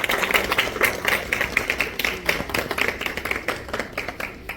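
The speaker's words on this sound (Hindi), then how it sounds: "जोरदार ताली" Steady applause from a small crowd, a dense patter of claps that fades slightly toward the end.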